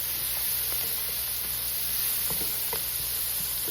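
Meatballs searing in a hot pan give a steady, moderate sizzle with faint pops and crackles scattered throughout, no voices.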